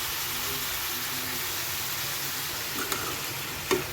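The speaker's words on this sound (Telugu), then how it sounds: "ఆవాలి జీలకర్ర కట్ చేసి పెట్టుకున్నటువంటి వెజిటేబుల్ ఆయిల్లో వేసేసుకున్నాను" Mustard seeds and cumin fry in hot vegetable oil for a hotel-style sambar, giving a steady, even sizzle with a couple of brief pops near the end.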